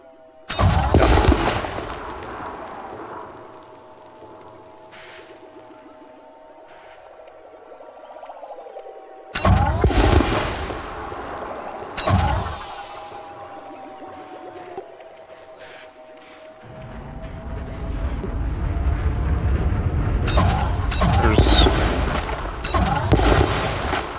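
Spaceship weapons fire in the video game Elite Dangerous: a few sharp, loud bursts early on, then a longer stretch of heavy, sustained booming over a droning engine tone.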